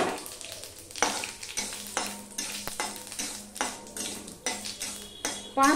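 Panch phoron, the Bengali five-spice mix, fries in hot oil in a pan for a jujube pickle. A steady sizzle runs under repeated rhythmic scrapes and clinks of a spoon stirring against the pan, close up.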